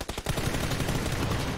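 Rapid close gunfire in PUBG aimed at a tank, a dense burst of loud shots running together, heavy and continuous through the clip.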